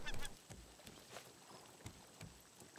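Faint bird squawks and honks near a small crop plot on a raft in the survival game Raft, several short calls spread over a quiet watery background.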